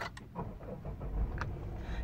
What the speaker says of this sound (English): Power button start.